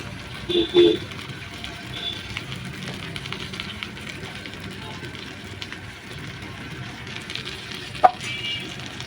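Brinjal slices coated in egg mixture fry in a pan with a steady, low sizzle throughout, broken by a couple of soft clatters near the start and one sharp tap toward the end.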